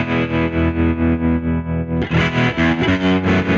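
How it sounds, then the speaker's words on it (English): Electric guitar runs through a Blues Driver overdrive and then a tremolo pedal, giving loud, distorted sustained chords that pulse rhythmically in volume, with a new chord struck midway. "So if we've got the blues driver, what happens if I add the tremolo?"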